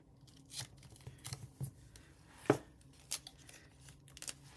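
A few sharp snips and tearing crackles of scissors cutting 2-inch adhesive tape, close and fairly quiet, with small handling noises between them.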